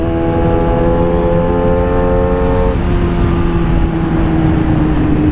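A Yamaha R6 motorcycle with its exhaust silencer removed revs loudly inside a tunnel, a close, sustained engine roar with steady harmonic tones that drop in pitch midway as the revs shift, echoing with no talk.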